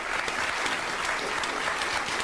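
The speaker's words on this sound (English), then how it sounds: "The clapping, I think the applause really just" Audience applause, a dense, even wash of many hands clapping that carries on steadily for a couple of seconds at moderate level, without voices.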